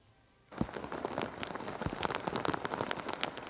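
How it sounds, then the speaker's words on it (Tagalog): Heavy rain pours down in Cagayan province during a typhoon, starting abruptly after a brief quiet moment and then continuing as a dense, steady patter of many close drops with scattered louder splashes. "magdamag pa rin naranasan ng malakas na buhos ng ulan sa malaking bahagi ng probinsya ng Cagayan"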